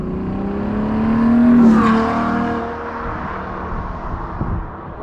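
A 2016 Ferrari GTC4Lusso with a naturally aspirated V12 of nearly 700 hp cruising on the German Autobahn, its engine tone rising to a strong sustained drone, then settling into steady road and wind roar.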